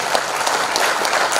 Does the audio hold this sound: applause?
yes